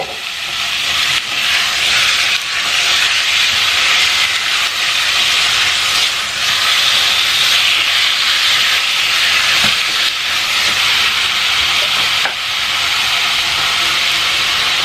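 Chopped chicken with vinegar, salt and seasoning frying in a pan, giving a steady loud sizzling hiss that runs unbroken throughout with no talk.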